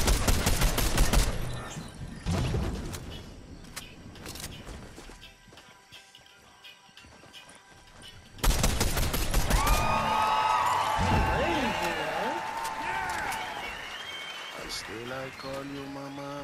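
Fortnite gunfire cracks out in rapid bursts at first, then thins out. Later, a louder stretch of game sound effects and tonal chimes plays while people talk over it.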